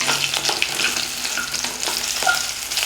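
Urad dal fries in hot oil for Chettinad kara chutney, a steady close sizzle with light crackles and the occasional stir of a spoon through the pan, no voices.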